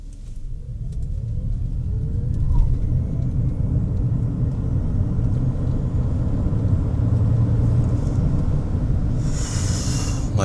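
Chery Tiggo 7 PHEV plug-in hybrid SUV accelerating, heard from inside as a steady low road-and-drivetrain rumble that holds even throughout, with a brief hiss near the end.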